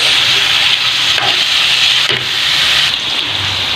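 Vegetables hit hot oil with spices in a pan, giving a steady loud sizzle and hiss with a few stirring scrapes, no voices over it.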